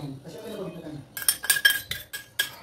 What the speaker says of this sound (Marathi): तर चमच्याने व्यवस्थित मिक्स करून घ्या